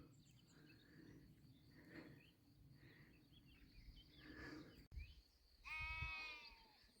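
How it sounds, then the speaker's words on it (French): Sheep and lambs bleat near a lake in the Tarn-et-Garonne countryside along the GR65 Camino path, with faint, distant calls over an insect and outdoor background and then one clearer, louder bleat near the end. "les moutons."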